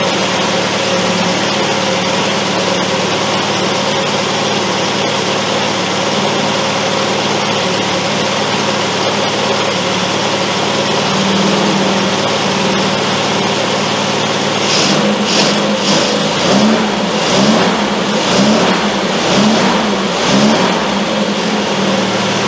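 A Triumph Spitfire engine with twin carburetors idles steadily at a fairly high pitch, then revs up in several quick bursts toward the end, close by with no talking.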